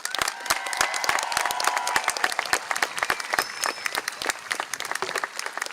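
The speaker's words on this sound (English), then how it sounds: "please join me in giving the class of 2026 a well-deserved round of applause" A crowd at a high school graduation ceremony gives the graduating class a sustained round of applause, steady dense clapping with some cheers and shouts, heard from a distance with no speech over it.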